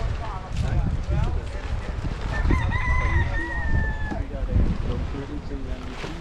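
A rooster crows loudly in a drawn-out call amid surrounding clucking fowl and outdoor background noise in Exuma.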